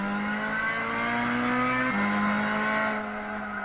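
A race car in Gran Turismo 6 at the Sierra circuit, its engine holding a loud, steady high whine that drops in pitch at a shift and then continues, with faint tire noise and no talking.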